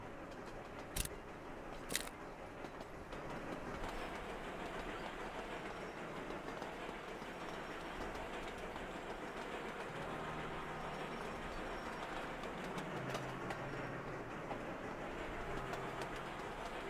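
Trains run in the railway-building video game Sweet Transit, with a steady rumbling, clattering rail noise throughout and a couple of sharp clicks near the start.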